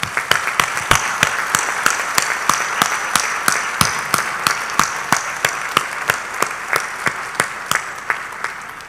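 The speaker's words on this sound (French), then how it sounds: "je voudrais qu'ils soient tous applaudis" A conference hall audience at a 2013 AUF plenary session applauds the organising team with a steady, rhythmic clapping that keeps an even beat over a dense wash of hands, loud and sustained throughout.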